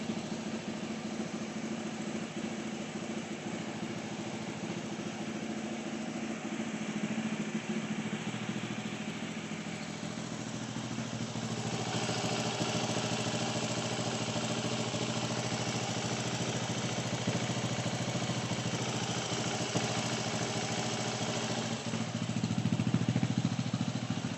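A 2020 KTM 690 Enduro R single-cylinder engine idles steadily at close range for about 24 seconds, a low even thrum that grows slightly louder and rougher midway, waiting for the cooling fan to kick in.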